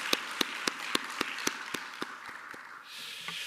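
A church congregation at a Korean Sunday worship service claps on a steady, even beat, about ten distinct claps over a soft background hum, then trails off near the end.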